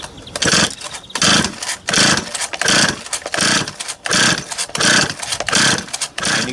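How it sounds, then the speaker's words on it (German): Repeated bursts of a Stihl 026 chainsaw's two-stroke engine being pulled and sputtering briefly, about eight rhythmic attempts, none catching into a steady run. "Ich habe jetzt mehrmals noch Startversuche durchgeführt und trotzdem sprang die Kettensäge nicht an."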